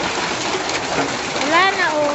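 Heavy freezing rain falls in spring, a dense, steady hiss of downpour throughout, with a voice rising briefly over it near the end.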